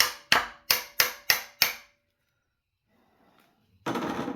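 A hammer strikes a chisel and shim wedged behind the harmonic balancer on a 2013 Ford Edge 2.0 engine: six sharp metallic blows in a steady rhythm, then near silence, then a sudden burst of louder clattering noise.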